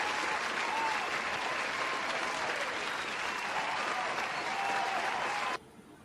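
An audience at a live show gives a loud round of applause and cheers for guest Ed Jones, a sustained, steady wash of clapping that cuts off abruptly near the end.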